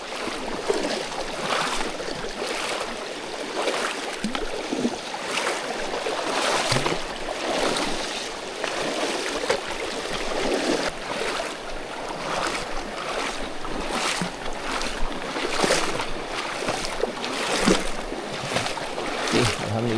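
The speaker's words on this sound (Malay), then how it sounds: "Lagi crossing sungai." Water rushes and splashes continuously as someone wades across a jungle river, a close, steady churning with irregular sloshing surges.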